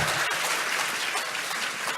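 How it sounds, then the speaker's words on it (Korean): Audience applause fills a public podcast recording at a Democratic Party Seoul chapter new-member academy talk concert: dense, steady clapping from a crowd, loud and close, with no speech over it. "박수 한번 보내주세요."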